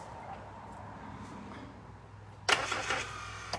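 An old car, its carburetor cleaned and fresh fuel added, cranks quietly before the engine catches with a sudden loud burst and sputters on, close by, after a faint stretch of background noise.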